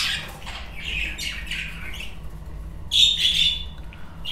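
Lutino budgerigars in a breeding room squawk and chatter in short, harsh bursts, with a louder cluster of calls near the end over faint background hum.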